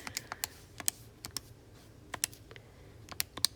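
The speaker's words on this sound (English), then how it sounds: "And then you can type that into the calculator." Numbers being keyed into a calculator, heard as a dozen or so sharp, close button clicks in uneven quick bursts against a quiet background.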